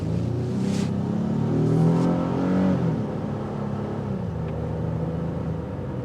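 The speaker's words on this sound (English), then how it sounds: "you will hear some road noise because of the all-terrain tires" A 2024 Honda Ridgeline TrailSport on all-terrain tires accelerates, its engine note climbing and easing over a steady bed of road rumble, loud and close with no talking.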